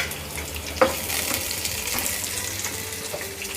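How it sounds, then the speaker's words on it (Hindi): Chopped onions and capsicum fry in a pan, making a steady, close sizzle with bright crackling and a brief clatter of stirring near the start, continuing alone without voices. "प्याज को भूनना है। हल्का सा इसका कलर चेंज हो जाए और ये सॉफ्ट हो जाए"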